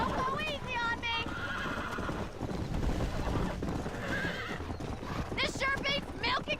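Horses in Red Dead Redemption neigh and whinny several times, with repeated bursts near the start and the end, over steady clip-clopping hooves and a busy game soundscape.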